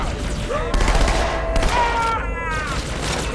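Bursts of gunfire from Halo 2 crackle loudly over continuous game noise, with voices talking over the shooting.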